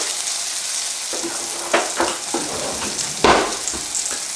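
Eggs fry in a pan with a steady, close sizzle, broken by a few sharper crackles and scraping knocks as they are split and flipped, with no talking.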